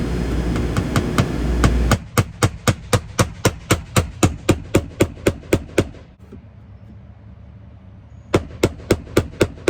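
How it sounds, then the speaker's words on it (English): Sharp, evenly spaced hammer blows drive nails into clapboard siding in a quick steady run, pause briefly, then resume with a few more strikes. Close and loud. "then I'll go ahead and hammer them in all the way"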